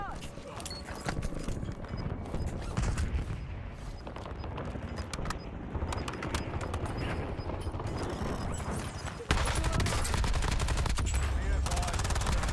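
Sustained Warzone video game gunfire: rapid automatic bursts and clattering weapon mechanics run loud and dense for the whole stretch, growing heavier near the end.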